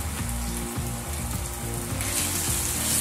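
Tomato paste fries in a pan for a beef meatball sauce with peppers, a loud, constant sizzle and crackle broken by a few low scraping stirs, with no talking over it.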